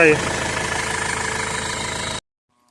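A vehicle engine, just restarted after its fuel system was bled with the hand primer bulb, idles with a steady, slightly knocking throb, close and loud for about two seconds before cutting off abruptly.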